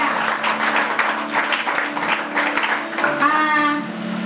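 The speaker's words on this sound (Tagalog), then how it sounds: "Pero isang palakpak sa ating Panginoon." Applause from a church gathering, a steady wash of clapping throughout with voices and a brief tonal sound near the end.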